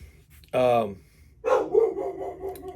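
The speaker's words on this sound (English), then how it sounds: "My pit bull's barking." A pit bull barks loudly nearby, a drawn-out bark followed by a rougher, throaty bark and a few growly yips.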